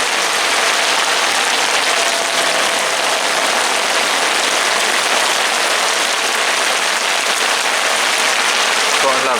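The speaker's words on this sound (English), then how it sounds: "Gotta love a torrential downpour." A torrential downpour at a carp fishery roars in a dense, unbroken hiss, loud and close, with no letup throughout.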